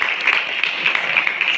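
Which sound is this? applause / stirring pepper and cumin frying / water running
applause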